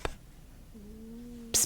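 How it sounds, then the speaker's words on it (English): A sleeping cat snores softly nearby, a low steady drone sustained for about a second, framed by brief breathy hisses at the start and end. "cat, he is snoring"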